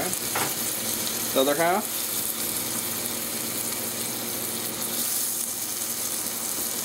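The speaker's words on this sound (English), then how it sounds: "Okay, we'll stir this around. Make sure not to let your rice stick." Arborio-style rice for a lemon and pea risotto sizzles and crackles in a hot pan while being stirred, a steady close frying hiss with a brief spoken remark near the start.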